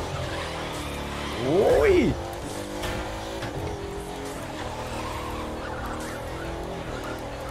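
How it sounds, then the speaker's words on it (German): All-wheel-drive car drifting through snow in The Crew 2, a three-ton vehicle, with a short loud tire skid and engine surge near the start over steady driving noise; a voice gives a brief exclamation. "Driften mit Allrad ist möglich, Freunde."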